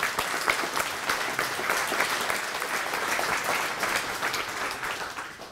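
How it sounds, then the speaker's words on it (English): An audience claps for a person called up at a gathering, producing a steady, moderately loud patter of many hands that holds evenly for several seconds with a faint murmur of voices underneath. "Give Rob a round of applause."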